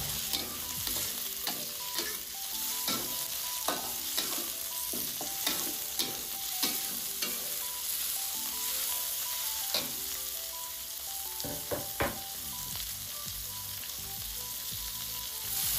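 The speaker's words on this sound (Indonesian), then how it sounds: "bisa langsung dimasukkan daging yang telah dipotong tadi. Tumis hingga daging layu." Cut meat sautéing with browned onions in a pan, a steady sizzle running throughout with frequent scrapes and clinks of a spatula stirring, close and moderately loud, no talking.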